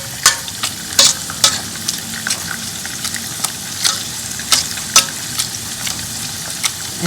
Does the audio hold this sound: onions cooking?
yes